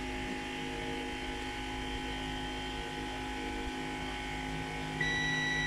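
A multimeter tester buzzes with a continuous steady electronic tone while probing a shorted component on a faulty Samsung UA43NU71 TV's board, accompanied by faint hum and a brief higher beep near the end; no one talks.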